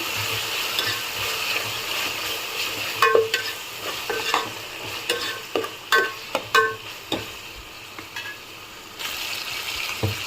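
Vegetables stirred in a pan with a spoonful of ginger garlic paste for a quick khichdi, a steady soft sizzle beneath a series of sharp spoon scrapes and clinks against the pan.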